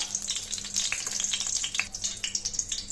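Brinjal pieces fry in hot oil in a pan, giving a steady close crackling sizzle with scattered sharper pops and no talking.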